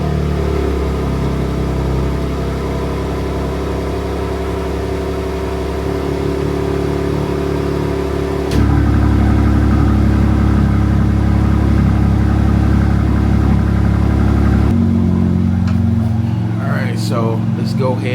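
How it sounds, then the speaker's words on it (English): A 2024 BMW G87 M2 engine makes a loud, close cold start and then a steady high idle that drops and settles partway through. The throaty drone continues for the full stretch with no talking. "So before we start it, let's give it a cold start"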